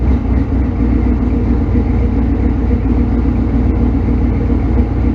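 Factory Five Hot Rod engine idles with a steady, loud, low rumble and an even throb, continuous and alone with no talk.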